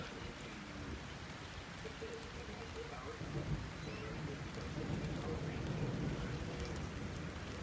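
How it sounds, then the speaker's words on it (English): Steady heavy rain hisses throughout a thunderstorm in St Leonards, with low rumbling thunder building and rolling in the background over the second half. "and claps of thunder every time."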